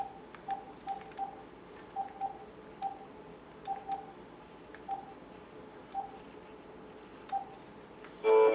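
Ooma Telo home phone dialing out on a test call: a steady run of short touch-tone beeps, roughly a dozen at uneven spacing over a faint hum, ending on a brief louder burst.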